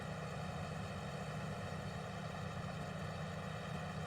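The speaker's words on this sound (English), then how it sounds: "Let the revs come up." Steady engine of a Kodiak 400cc ATV running continuously with a strong low-pitched drone and harmonic hum, close and loud, holding fairly even rather than climbing sharply.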